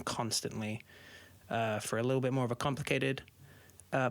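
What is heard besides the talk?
No everyday noises stand out.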